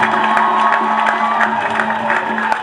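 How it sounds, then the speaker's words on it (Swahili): A church congregation bursts into sustained applause and cheering during Mass, a dense crowd roar with scattered claps and voices holding steady throughout. "tupaze sauti na kumpigia makofi tena Mungu wetu"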